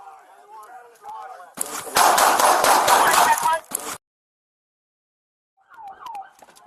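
Police bodycam captures a rapid volley of loud, close gunshots fired at a bus, a dense burst lasting about two seconds, with voices talking before it and again shortly after a silent gap.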